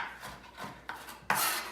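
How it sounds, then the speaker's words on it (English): A knife chops on a cutting board while fresh herbs are cut for stuffed chicken roll-ups, giving a few irregular, close-up knocks and scrapes, the last one sharper and louder. "Keep chopping with that knife,"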